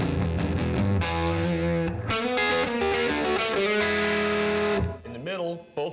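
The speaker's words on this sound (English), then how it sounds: "so the bass pickup, just this pickup, sounds like this." An electric guitar on its bass pickup alone plays warm, full chords and sustained notes with a round, bass-heavy tone and some distortion, ending with a short slide.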